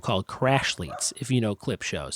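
A dog, probably reacting to a possum running across the yard, barks and yips in the background beneath a man's continuous close speech, the short yaps partly masked by his voice.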